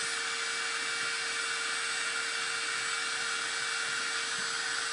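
A small electric heat tool dries chalk-style furniture paint, giving a steady, even whirring hiss with a thin constant tone over it, unbroken for the whole stretch and with no talking.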